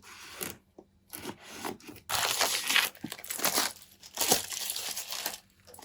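Crinkling and tearing of packaging as a Paul Rubens watercolor palette is unwrapped, with close, fairly loud paper and plastic rustles in irregular bursts.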